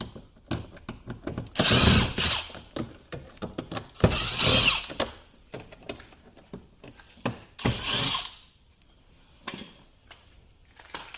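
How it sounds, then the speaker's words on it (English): A power drill whirs in several short bursts while backing out the door panel screws on a 2015 Toyota Camry, loud and close, with clicks and handling noises between the runs and no talking. "Remove the 3 screws."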